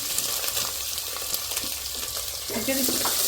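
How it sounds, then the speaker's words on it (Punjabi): Potatoes and onions dropped into a hot pan with cumin seeds, a steady loud frying hiss and crackle with light stirring scrapes throughout. "ਲਓ ਜੀ ਆਪਾਂ ਹੁਣ ਆਲੂ ਪਿਆਜ਼ ਪਾ ਦਾਂਗੇ ਜੀਰਾ ਪਾਤਾ ਸੀ"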